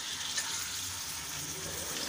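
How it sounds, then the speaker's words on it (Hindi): Chicken frying in hot oil over low heat in a karahi, a faint, even sizzle that holds steady throughout without other sounds. "तो बस जी चिकन मैंने डाल चुकी हूँ, ऑयल मैंने हल्की आंच पे गरम रखा हुआ था"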